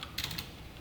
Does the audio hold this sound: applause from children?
no